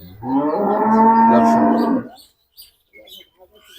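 A calm first-calf dairy cow on a farm lets out one loud, close, drawn-out moo lasting about two seconds, followed by quiet with a few faint knocks.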